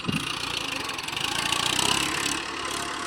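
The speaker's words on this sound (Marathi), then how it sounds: "दोन्ही बी ट्रॅक्टर आपल्याच रानात चालू येतं" A tractor engine drones steadily while levelling a farm field into the night, a continuous mid-pitched running rumble that swells slightly and then eases, with no talk over it.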